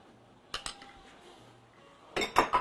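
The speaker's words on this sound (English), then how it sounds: "I'm going to mix this sour cream right in." Sour cream being mixed into a bread pudding mixture in a bowl, a few sharp utensil clinks against the bowl, then a louder burst of clattering scraping strokes at the end, close up.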